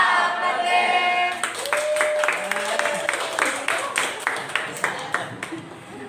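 A group claps in rhythm during the tepuk nyamuk clapping game, with a steady run of sharp, fairly close claps. Voices are heard under and between the claps.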